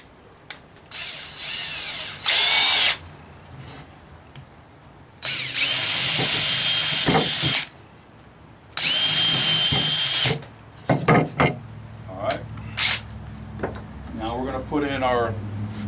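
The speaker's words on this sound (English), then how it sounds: "I'm going to take and pre-drill it" A power drill with a 1/8 inch bit whines in three sustained bursts of a few seconds each, pre-drilling wood for a porch swing, separated by quieter handling noises and clinks.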